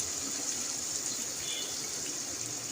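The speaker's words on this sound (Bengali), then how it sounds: "এখন ঝোলের জন্য পানি দিয়ে দিই আর সাথে মাছটাও দিয়ে দিব" Water pours steadily into a cooking pan of fried pointed gourd and spices to make a curry gravy, a constant close rushing splash with no pauses.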